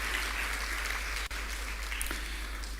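An audience at a graduation ceremony applauds in a steady, continuous wash of clapping that sounds somewhat distant and fairly soft.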